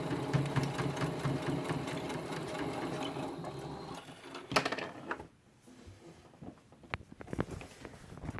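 A sewing machine stitching fabric for a face mask, a fast steady mechanical whir for several seconds that slows and stops, followed by a few scattered clicks and handling sounds nearby.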